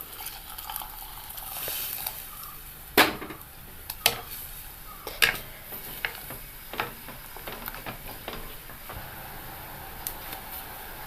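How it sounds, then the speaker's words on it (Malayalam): Tamarind-water curry gravy for a dried prawn and mango curry boils in a pan, giving a close, steady bubbling hiss broken by several sharp pops and clicks, with no one speaking. "ഈ ഗ്രേവി തിളയ്ക്കാൻ തുടങ്ങി."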